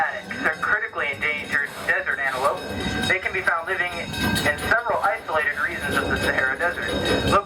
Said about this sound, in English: remain seated while the train is in motion